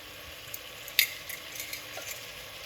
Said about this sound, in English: we're gonna fry up these